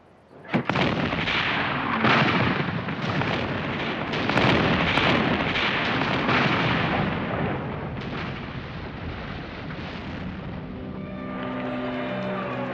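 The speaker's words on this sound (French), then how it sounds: "les canons franquistes bombardent" Heavy artillery cannons boom in a sustained bombardment of besieged Bilbao during the Spanish Civil War, loud rolling blasts merging into a thunderous roar that slowly fades toward the end.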